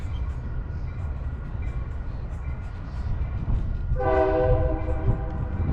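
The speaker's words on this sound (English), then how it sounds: "here comes the metro." A Chicago metro train pulls in, its low rumble building to a loud, close approach with a tonal horn or brake whine near the end, no talk over it.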